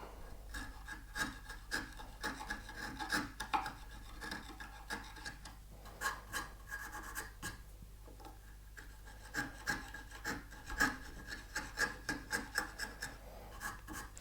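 A chisel pares across wood for a mortise and tenon joint, giving repeated short rasping scrapes in uneven bursts, close and fairly quiet, with no one speaking.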